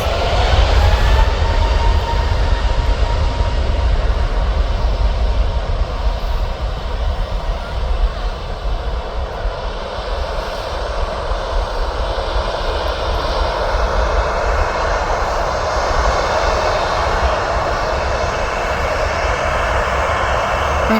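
An Airbus A320neo jet departs from Birmingham Airport, its engines roaring loud and steady for the whole stretch, with a broad rumbling drone that slowly shifts as the aircraft moves away.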